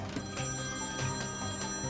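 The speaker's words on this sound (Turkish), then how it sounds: "Bir dakika, telefon çalıyor Ece." A telephone rings with a steady electronic ringing tone, continuous and fairly loud at close range, with no one speaking over it.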